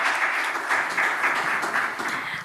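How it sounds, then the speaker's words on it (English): A conference audience applauds a panel steadily, a dense wash of many hands clapping at moderate volume throughout, with no voices standing out. "Give a round of applause to the panel."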